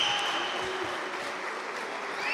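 Crowd applauding at a Serie A futsal match between Kaos Mantova and Lynx Latina, a continuous wash of clapping and crowd noise with a faint whistle-like tone, steady and fairly loud.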